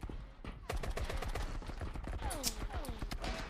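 Gunfire in a multiplayer shooter game, with a quick burst of shots followed by rapid rattling fire, moderately loud, heard alongside in-game effects and music.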